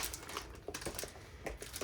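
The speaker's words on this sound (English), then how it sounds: "And I apologize in advance for the crinkly sound." Faint crinkling of plastic packaging as a box is opened, with short crackly bursts and rustles coming in irregular clusters, close and quiet.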